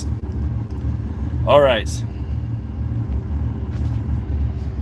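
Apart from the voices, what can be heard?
Lamborghini Countach engine while driving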